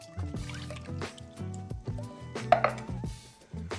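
Two cans of evaporated milk poured into a dish for seafood mac and cheese, with soft glugging and dripping splashes of thick liquid landing close by in short, uneven bursts.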